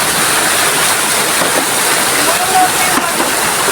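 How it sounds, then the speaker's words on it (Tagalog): Steady rushing of water at a mountain stream in the Philippines, loud and continuous, close by and filling the whole stretch without pause. "nakarating tayo ngayon dito sa Batis"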